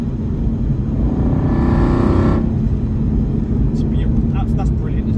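Inside a 2007 Aston Martin V8 Vantage with the 4.3 engine, a deep throaty rumble swells into a brief rising rev while driving, with excited voices joining near the end.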